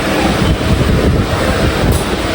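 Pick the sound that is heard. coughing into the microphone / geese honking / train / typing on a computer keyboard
train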